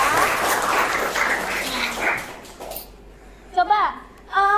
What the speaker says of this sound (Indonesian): Tepuk tangan buat Kalista.